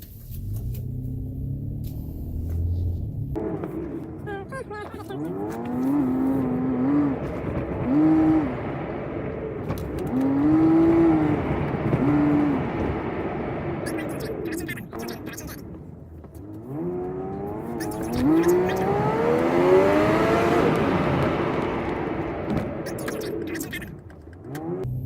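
A 2008 Toyota FJ Cruiser with a P0101 airflow fault accelerates on a test drive, its engine rising in smooth surges and easing off twice, with road rumble heard from inside the cabin under occasional speech.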